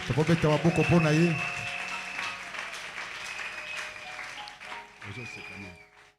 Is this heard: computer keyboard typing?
no